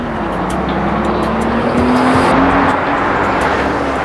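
A race car braking hard in Gran Turismo 4 Prologue, loud engine drone dropping in pitch with a long tire squeal rising through the middle before the revs settle, no talk over it.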